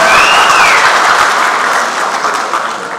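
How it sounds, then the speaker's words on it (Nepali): A crowd at a Nepali political rally claps in a dense, loud, continuous burst that fades slightly toward the end, with no one speaking over it. "एकपल्ट ताली बजाउनुहोस् न"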